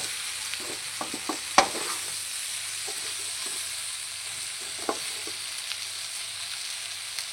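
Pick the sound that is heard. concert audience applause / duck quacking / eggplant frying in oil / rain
eggplant frying in oil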